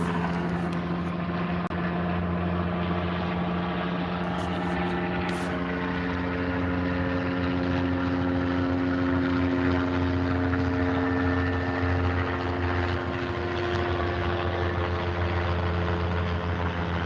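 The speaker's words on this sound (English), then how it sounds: "It's a helicopter, bro. Yeah, that's a helicopter." A helicopter flies overhead outdoors, its steady rotor and engine drone loud and continuous throughout with a low throbbing hum, no talking.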